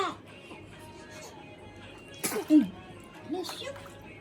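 A single short sneeze bursts out mid-clip against a quiet room, followed by a brief smaller sound; faint talk is nearby.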